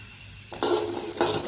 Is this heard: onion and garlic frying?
yes